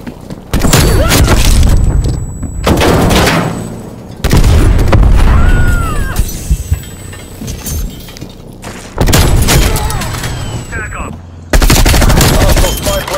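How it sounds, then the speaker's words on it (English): Heavy video-game artillery fire comes as loud, close bursts of booming gunfire in several long barrages separated by brief lulls. "Artillery targeting war machine going hot."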